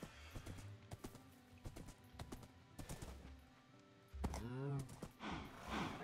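Rhythmic video-game horse hoofbeats clop in quick bursts, with a brief whinny-like sound near the end, all fairly faint.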